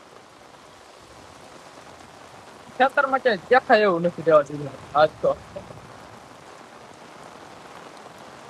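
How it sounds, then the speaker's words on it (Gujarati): Heavy rain pours steadily on a farm, an even broad hiss that fills the whole stretch while someone talks briefly in the middle. "વરસાદ જ એવો પડે છે"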